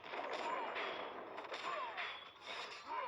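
Cannon and gunfire effects from the mobile strategy game Clash of Clans, a dense run of booming shots and bursts layered over busy game audio, steady and loud throughout, with a voice speaking faintly underneath.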